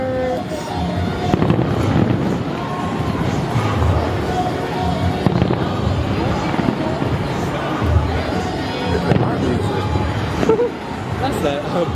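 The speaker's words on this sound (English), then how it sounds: "We found the fireworks." Fireworks show at Disneyland bursting continuously in a dense, echoing barrage, with a crowd murmuring and chattering throughout at a moderate distance.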